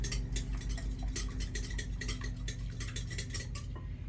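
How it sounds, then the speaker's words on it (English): Eggs being whisked in a bowl for zucchini bread batter, a steady run of quick metallic taps and clinks close up, with no voices. "I'm going to give those just a little bit of a whisk so that they incorporate well."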